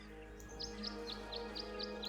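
Birds at a bird bath in the video game Tangle Tower chirp in short, evenly spaced high notes, about seven in a steady rhythm, over a constant low musical hum.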